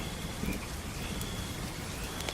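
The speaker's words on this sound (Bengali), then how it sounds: "বাইরে তখনও ঝুম বৃষ্টি পড়ছে।" Heavy rain pours outside at a rural railway station late at night, a dense, steady hiss of drops on surfaces with no pauses and no voices.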